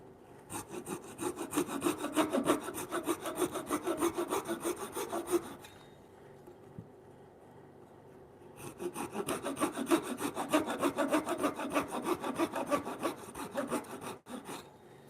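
Hand saw cutting a small wooden timber-frame toy block in a woodworking shop, rapid close rasping strokes in two bursts separated by a few seconds of quiet, with no talking.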